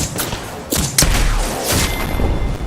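Gunfire in the battle royale game Apex Legends, a burst of loud thuds and shots landing nearby in quick succession, close and harsh with no talk.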